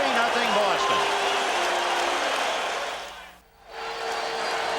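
A baseball stadium crowd cheers and applauds during Game 7 of the 1986 World Series between the Mets and Boston, a broad sustained roar with a commentator talking over it before a brief dip in the noise.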